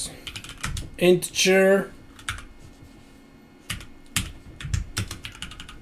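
Computer keyboard keys clatter in short bursts while C# code is typed, with a person speaking between and over the keystrokes.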